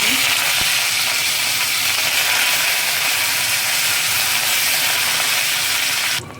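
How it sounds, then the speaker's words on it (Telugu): Tempering of urad dal and curry leaves frying in hot oil for a raw tamarind chutney, a loud continuous hiss and sizzle, close and steady, cutting off sharply at the very end. "పోపు ఫ్రై అయిన తర్వాత కరివేపాకు వేసుకోండి."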